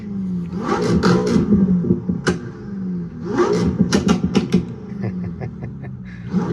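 Racing sim car engine revving twice through small, loud outdoor speakers on a sim rig, each surge trailed by sharp crackling exhaust pops, with a quieter stretch of idle between.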